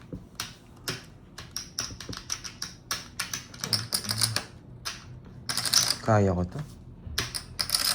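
Rapid clicking of keys on a computer keyboard while someone plays the card game Tongits, bursts of uneven taps in quick runs, with a person speaking briefly partway through.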